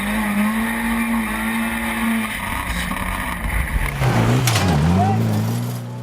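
A 4x4 truck engine revs hard during a steep obstacle climb at a Maxxis 4XTR event at Parys, loud and close, holding a high rev before dropping and surging again as the truck slides back, with commentary over it.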